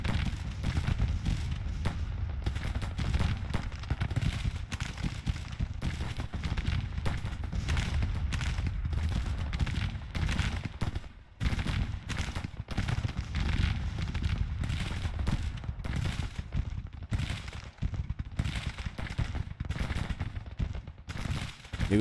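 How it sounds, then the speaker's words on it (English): Musket volleys and artillery fire in Grand Tactician: The Civil War at Bentonville crackle continuously, with dense overlapping shots and deeper booms sustained at moderate distance. "this detachment is firing on these guns"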